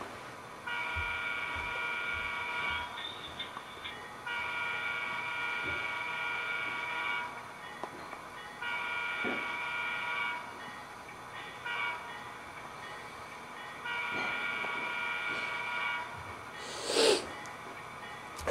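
A model train locomotive with a QSI DCC sound decoder runs alone, giving a steady rumbling engine drone broken by several pauses, with a loud horn-like burst near the end.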